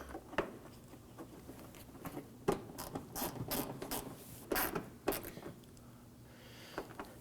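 A ratchet clicks in short bursts while tightening the last upper bumper bracket screw on a 2008-2011 Ford Focus, close and fairly quiet, with a low steady hum underneath.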